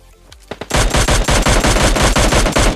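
Rapid automatic gunfire in the mobile game PUBG Mobile Lite: a few separate shots, then a loud, sustained burst of closely spaced rounds with no voices.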